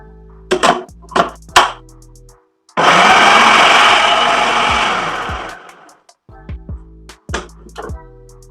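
An Amazon Basics food processor whirs loudly for about three seconds with a steady motor hum, then winds down. Short sharp knocks come before and after the run.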